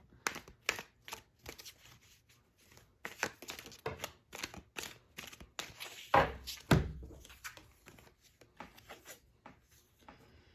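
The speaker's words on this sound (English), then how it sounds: "Let's get to shuffling" Tarot cards are shuffled by hand in quiet, irregular bursts of papery riffling and soft slaps, with one louder thump midway, all faint and close with no talk.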